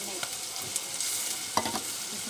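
Moong dal stirred and frying in a pan with onion and turmeric, a soft steady sizzle with a few louder scraping stirs near the end, close and moderately quiet, no talking.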